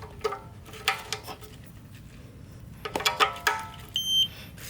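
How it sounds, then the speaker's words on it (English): A Cybertruck console safe lockbox, fitted with two fresh AAA batteries, gives several short electronic beeps mixed with clicks and handling noise, ending in a higher tone. "there's the beep."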